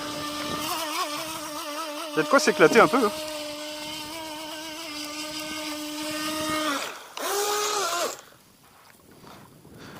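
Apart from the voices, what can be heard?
Skytech H100 RC boat motor running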